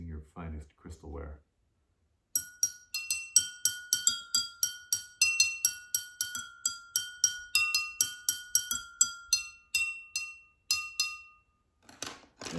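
Drinking glass struck as a homemade percussion instrument with the thinner end of a beater, ringing in a quick rhythmic run of bright clinks, after brief talk at the start.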